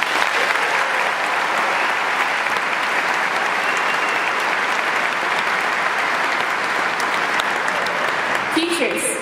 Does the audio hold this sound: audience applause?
yes